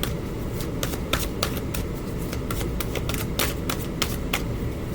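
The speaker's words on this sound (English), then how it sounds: "All of this extra shuffling isn't helping my hands." Tarot cards shuffled by hand, a dense continuous riffling patter with quick sharp flicks, close and steady throughout with no voices.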